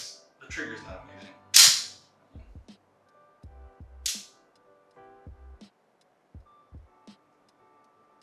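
A Glock Gen 6 pistol trigger is dry-fired, giving sharp, close mechanical clicks and snaps spaced apart, with a couple of louder metallic snaps among quieter handling taps.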